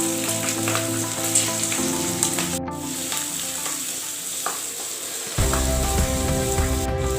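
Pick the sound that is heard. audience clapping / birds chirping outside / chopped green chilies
chopped green chilies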